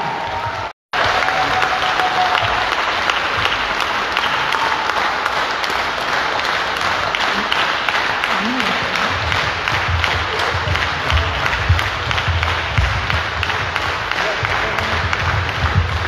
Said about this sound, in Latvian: Ar skaļiem aplausiem mēs pavadām visu laiku, Edgars kustās, tur mēs aplaudējam.